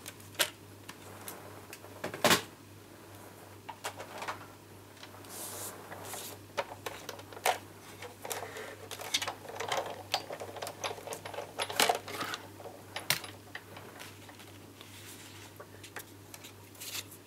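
A die-cutting machine feeding card for a bookbinding project gives off faint, irregular ticks and clicks over a low steady hum, with a few sharper clacks scattered throughout.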